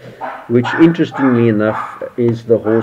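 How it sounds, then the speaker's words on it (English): A dog barks several times in quick bursts, loud and close, mixed with a man's speech in the same moment. "sorry about that barking there"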